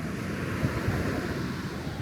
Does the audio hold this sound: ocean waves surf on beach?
yes